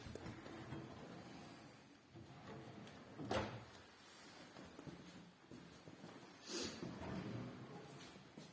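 A kitchen drawer glides open and closed on smooth runners, quiet rolling slides punctuated by a couple of soft thuds as it stops, faint and close.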